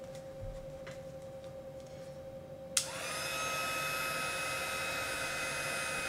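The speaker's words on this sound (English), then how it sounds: "I'm going to use my embossing heat tool" An embossing heat tool switches on partway through and blows hot air over a paper tag to melt embossing powder. A quiet room gives way to a close, steady blowing hum with a high whine.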